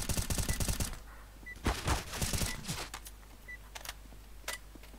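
Gunfire in the video game Counter-Strike: a rapid automatic burst opens, followed by further clusters of sharp shots and scattered single reports, fairly close and punchy against a quiet background.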